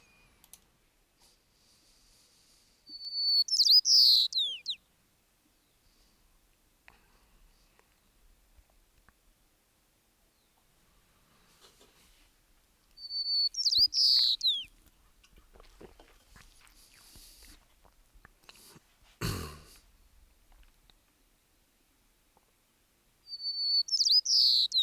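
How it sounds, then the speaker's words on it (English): White-crowned sparrow isolate song, the abnormal song of a bird raised without a tutor: three separate high, buzzy phrases, each a few seconds long, spaced far apart over quiet with faint clicks between. "So that's the song that the white-crowned sparrows produce when they've been isolated and haven't had anyone to learn from."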